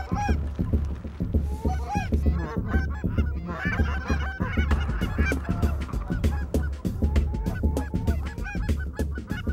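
A large flock of geese honking continuously during a goose hunt, dense overlapping calls near and far with steady low wind or water rumble underneath.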